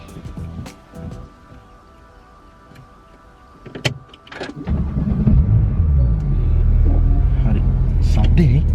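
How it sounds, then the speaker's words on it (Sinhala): A new car's engine turns over near the middle, then settles into a steady, close, low rumble as it runs, after earlier clicks and a brief whir. "හරි අපි එහෙමනම් කාර් එක ස්ටාර්ට් කරමු."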